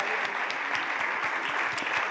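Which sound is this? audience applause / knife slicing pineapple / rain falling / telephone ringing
audience applause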